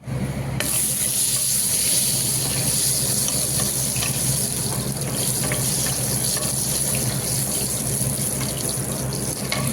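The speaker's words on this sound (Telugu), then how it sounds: "ఇప్పుడు పచ్చిమిరపకాయలు కడిగి వేసుకుందాం." Tap water runs in a steady, even gush as green chillies are washed in a kitchen sink for a potato 65 fry, close and continuous with no talking.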